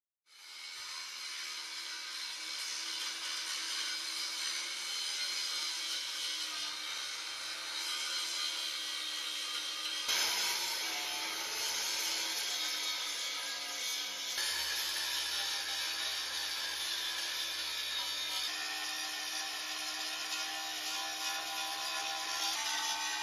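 Steady, continuous grinding of metal brackets off a bucket, a dense, high, uninterrupted power-tool whine that shifts slightly in pitch partway through; no voices.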